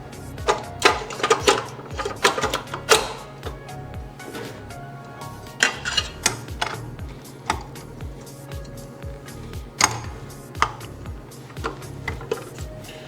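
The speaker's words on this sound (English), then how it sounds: "we're going to run the mixer on a low to medium speed" Stand mixer working ground beef in a bowl at low to medium speed, giving repeated irregular clinks and knocks of the beater against the bowl over a low motor hum.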